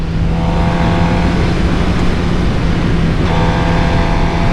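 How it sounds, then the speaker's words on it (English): A sports bike engine hums steadily while being ridden, a loud, continuous droning tone with wind rush and no distinct revving, close up and filling the whole stretch without speech. "It is so very awesome being back on a sports bike."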